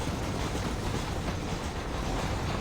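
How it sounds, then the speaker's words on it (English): A train rolls past in the Western video game Red Dead Redemption, a steady, dense rumble of wheels and cars that holds constant and close throughout, with no talking over it. "We were waiting for the train to pass."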